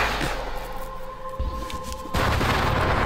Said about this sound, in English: Firework show.